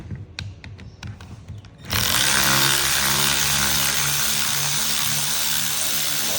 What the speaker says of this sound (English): we're gonna hit these T30 Torx with this impact to bust off the